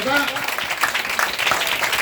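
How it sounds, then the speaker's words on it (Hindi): A church congregation claps in praise during a Sunday service, a crowd of hands clapping in a busy, continuous patter under a speaking voice. "ताली बजा के प्रभु का महिमा।"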